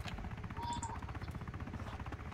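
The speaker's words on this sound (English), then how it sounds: "I hear two helicopters, yeah" Two helicopters approach in the military shooter game ArmA 2: Operation Arrowhead, with a low, steady rotor thump pulsing throughout at moderate distance, while faint voices talk over it.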